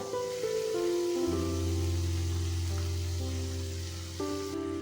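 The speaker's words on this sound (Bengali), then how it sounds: "এবার এর মধ্যে দিয়ে দেব ধনেপাতা বাটা।" Coriander leaf paste drops into spiced oil for a green Bhola fish curry, setting off a loud, steady sizzle and bubbling fry that holds close and continuous throughout, with a brief stirring shift near the end.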